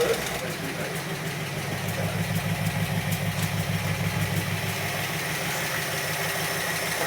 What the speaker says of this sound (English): the Barnfind Bristol 408 is running really nicely